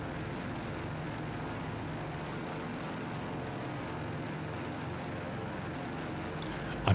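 A Boeing 247D twin-engine propeller airliner from 1935, flying in Microsoft Flight Simulator 2024, gives a constant, moderate cockpit drone with no speech and a brief sharp noise at the very end.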